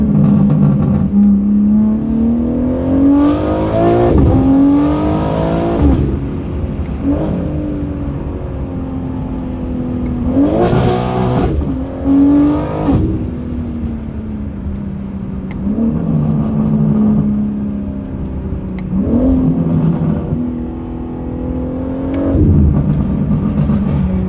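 A BMW G80 M3 with a Valvetronic HFD midpipe exhaust revs repeatedly, loud and close, its deep engine note rising and falling through several throttle blips with crackly pops between them.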